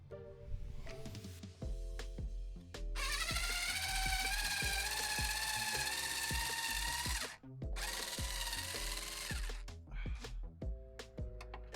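A power drill whirs in several bursts, with one long sustained run, as it unscrews the hood bolts on a 2019 Renault Twingo 3. Background music plays throughout.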